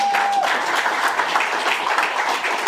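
Steady audience applause for a poet at a poetry fellowship reading, a dense continuous wash of many hands clapping throughout, with a brief tone at the start.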